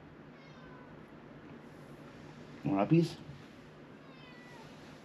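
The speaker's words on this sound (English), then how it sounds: "Speaking of what things I have a kitty." A pet domestic cat meows twice in quick succession, close and fairly loud, against a quiet room hum, while a person speaks softly to it.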